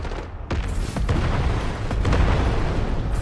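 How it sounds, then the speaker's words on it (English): Explosions boom through the center of the battlefield in the video game Warfare, several heavy blasts in quick succession, loud and close, with sustained rumbling between them. "we've got a lot of explosions going through the center"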